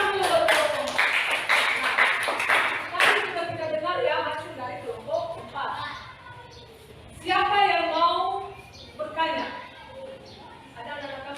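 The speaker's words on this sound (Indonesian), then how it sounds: "tepuk tangan dulu buat kelompok 4" A classroom group briefly claps for group 4 in a short burst near the start, followed by a person speaking alone at a moderate distance.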